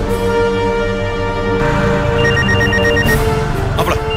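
A landline phone ringing in a Tamil home during a comedy serial, a steady electronic ring tone that carries loud and continuous over layered background music.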